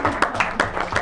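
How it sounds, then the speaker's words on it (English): A small group applauds at an evening council session, with a few distinct claps rising out of a brief patter of clapping at close range. "Another round of applause."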